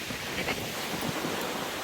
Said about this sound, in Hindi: यहाँ से पानी की लहरों की आवाज़ आ रही है